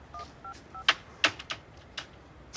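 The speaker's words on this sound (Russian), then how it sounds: "я сделаю еще один телефонный звоночек" A number is dialed on a telephone keypad: three short, evenly spaced dual-tone beeps, followed by several sharp button clicks at irregular intervals, close and clear with no speech.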